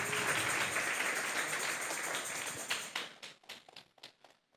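Church congregation at a youth service breaks into loud applause, a dense wash of clapping that thins into scattered separate claps before dying away.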